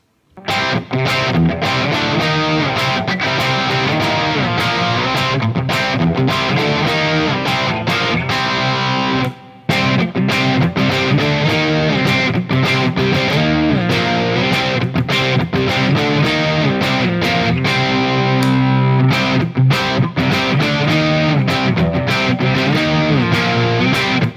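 A PRS S2 Standard 24 electric guitar, heavily distorted, plays a driving metal riff at high volume, with a brief break partway through, then continues without pause.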